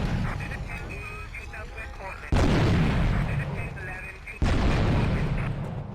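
Two loud shotgun blasts in a video game go off a couple of seconds apart. Each sharp crack hits over a low rumble, with game sounds and a faint voice in the background.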